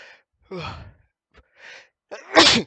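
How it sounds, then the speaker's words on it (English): Several breathy intakes build up to one loud, explosive sneeze close by, with short quiet gaps between the breaths. "Sorry, keep sneezing."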